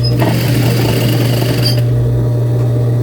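A sewing machine stitches along an overlock seam, a loud, steady mechanical whir with a constant hum, running close and uninterrupted for the whole stretch.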